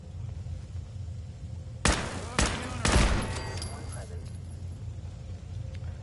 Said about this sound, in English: I hear turrets again.